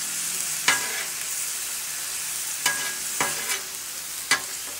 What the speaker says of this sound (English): browning this ground beef up